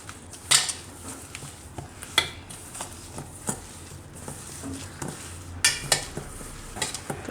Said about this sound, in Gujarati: આ બધો મસાલો હાથથી મિક્સ કરી લઉં આ રીતે.